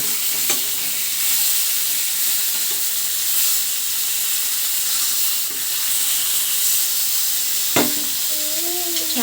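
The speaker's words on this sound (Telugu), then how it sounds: "ఇంకా చేపలు అయితే ఫ్రై చేస్తున్నాను" Fish frying in a pan makes a steady, loud sizzle and hiss throughout, close by, with occasional clinks and stirring scrapes of a utensil.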